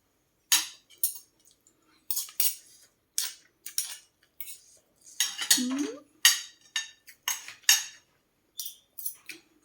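Metal spoons clinking against dishes and a pot during a Thai home meal of chili, mushroom and eggplant dips, a steady run of sharp, close clinks and taps with brief pauses and a faint voice once.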